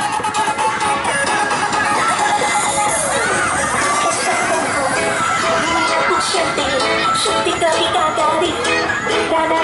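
Children shout and scream at a bouncy castle during a Lao New Year funfair in Tad Lo, a dense, loud crowd din with cheering voices running continuously throughout.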